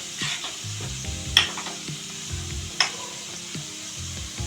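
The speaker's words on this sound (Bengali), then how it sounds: "দেখুন আমার পেঁয়াজটা ব্রাউন করে আমি ভেজে নিয়েছি।" Onions browning in mustard oil crackle in a pan while a spatula stirs them in repeated scraping strokes, with two sharp metallic knocks standing out; no one talks.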